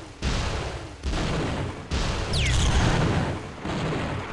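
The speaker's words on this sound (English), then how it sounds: "it makes a very unique noise, a kata cannon" A kata cannon fires in the video game Gunman Chronicles, loud rumbling blasts in repeated bursts with brief gaps and a high whining streak, close and filling the mix.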